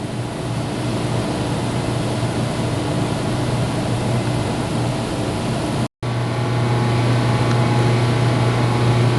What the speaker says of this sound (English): the pump will spin faster until it comes to its final value